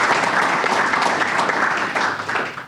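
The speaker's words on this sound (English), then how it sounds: "That's 2 rounds of applause at different press conferences" A room of people at a press conference applauds steadily, a broad continuous wash of many hands clapping that holds even and starts to fade at the end.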